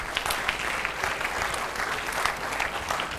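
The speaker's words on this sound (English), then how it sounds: "That deserves an applause." An audience at a banking executive's talk breaks into steady applause, a brief, moderately loud patter of clapping heard alone.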